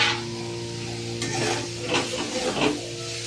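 Boiled soybean chunks tipped into frying spice masala, a continuous close sizzle with a few soft stirring scrapes and a steady hum underneath, with no talking.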